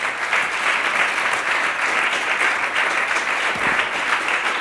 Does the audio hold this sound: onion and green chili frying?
no